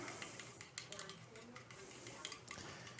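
Eggs, milk and leftover quinoa are stirred together in a bowl for a frittata, with a quiet, rhythmic scraping and clinking of utensil against dish at close range.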